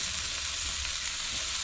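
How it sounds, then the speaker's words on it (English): Burger patties fry in a hot pan while being pressed flat with a spatula, giving a steady close hiss with no pauses across the short stretch, and no one speaks. "I'm just going to use my spatula, flatten these out good."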